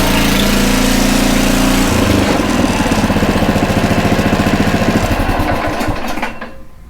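A Honda HRC216 walk-behind lawn mower on choke, pull-started and running loud and close, its small engine settling into a steady rapid putter before winding down and fading out at the end.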